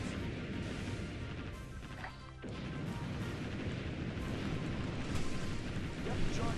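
Naval gunfire aimed at cruisers in the video game Warship Gunner 2: a steady, heavy roar of cannon blasts and explosions, with a brief dip partway through before the barrage resumes at full strength.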